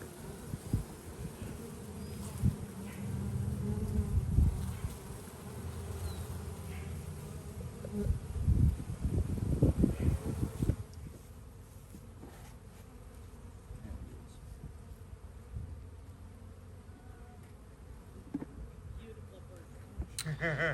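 Honey bees buzz around a hive box in a dense, droning swarm, loud and close at first, then settling into a softer, steadier hum in the second half.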